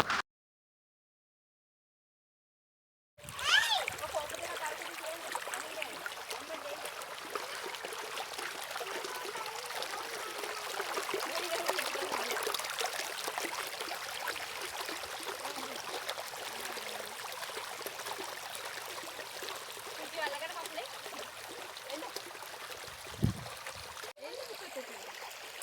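A small village stream flowing, with a soft steady trickle and gurgle of water that runs continuously at low level after a brief silent start.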